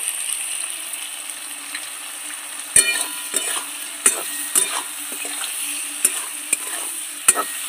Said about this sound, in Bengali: ভালো করে সব তেলের মধ্যে কষিয়ে নেব।